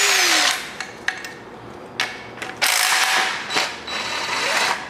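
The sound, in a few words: ratchet removing 15 mm bolts from LS V8 AC bracket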